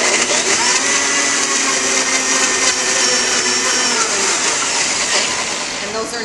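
An electric blender whirs loudly and steadily, blending strawberries for strawberry lemonade, a constant high-pitched motor roar that eases slightly near the end.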